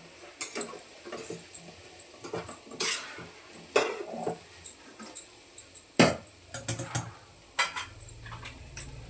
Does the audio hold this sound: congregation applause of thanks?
no